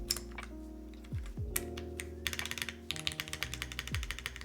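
A custom mechanical keyboard fitted with foam being typed on, with quick clustered clacks up close over a bed of background music.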